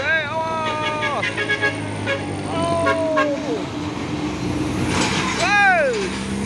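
Bus telolet horns sounding near a Hino bus: repeated musical toots in short bursts over engine rumble and traffic, with people talking and shouting.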